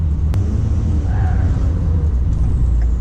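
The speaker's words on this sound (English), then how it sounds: "I cannot leave you guys without some turbo sound." A Ford F250 truck engine rumbles steadily up close, a low droning roar with a faint rising turbo whine over it, continuous throughout.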